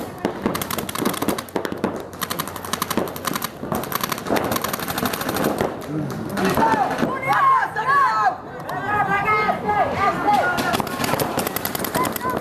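Rapid bursts of video game gunfire aimed at the player crackle throughout, dense and loud, with a shouting voice and excited talk layered over the shooting.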